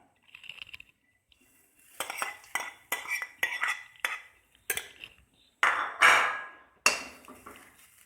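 Grated coconut dry-roasting in a hot Indian wok (cheenachatti), stirred with a metal utensil: a close run of irregular scrapes and sharp clinks against the pan, with short pauses between strokes and no talking.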